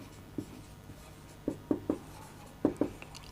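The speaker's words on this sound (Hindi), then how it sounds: "तो यहां पे लाइन लिखेंगे" Chalk or marker writing a line on a classroom board, a handful of faint, short tapping strokes in small clusters against a quiet room, with no talking.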